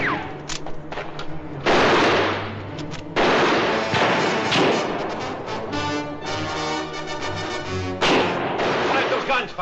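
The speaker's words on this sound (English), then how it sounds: "Quiet those guns firing." Guns fire in several loud, booming bursts and overlapping volleys that echo and ring out, close and harsh, with voices shouting between and under the shots.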